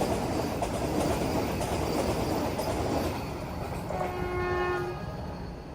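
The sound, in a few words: Mangalore–Thiruvananthapuram Vande Bharat express train arriving with horn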